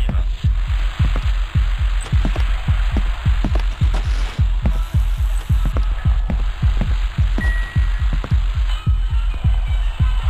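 A loud, rapid heartbeat thumps steadily and close in the Death Park horror video game, its fast repeating pulses running throughout over a low hum and faint background static, with no talking.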